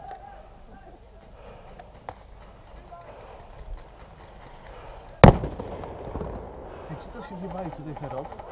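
Gunfire at an airsoft-style battle reenactment in Wędrzyn, Poland: a single sharp, loud shot cuts through quiet outdoor ambience, with faint distant pops before it and people talking nearby.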